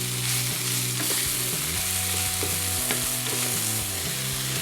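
Chopped fresh parsley and a tablespoon of all-purpose flour sizzle gently in a pan for a toasted chicken sandwich, a close, continuous soft frying crackle with steady low tones beneath and no talking.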